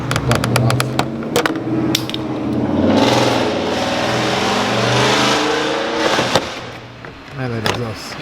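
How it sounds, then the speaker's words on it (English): A car's exhaust with an aftermarket switchable valve revs loudly and roughly nearby, rising and falling through several throaty bursts with crackling pops, under a voice speaking. "Man, that exhaust just sounds nasty."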